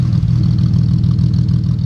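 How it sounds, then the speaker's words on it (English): A BMW E46 car engine idles unusually low, a steady close-up rumble with no revving. "for some reason, it's idling very low"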